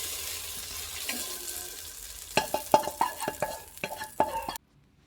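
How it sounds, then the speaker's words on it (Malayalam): Fried mustard seed tempering poured into a prawn curry: a low hiss that breaks into a burst of sharp sizzling crackles and clinks, then cuts off abruptly. "കടുക് പൊട്ടിച്ച് നമുക്ക് ഇതിനകത്തോട്ട് ഒഴിച്ച് കൊടുക്കാം."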